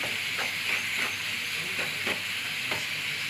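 Onions fry in hot oil with a steady, close hiss, while a spoon stirs them in a rhythmic series of soft scraping strokes roughly every third of a second.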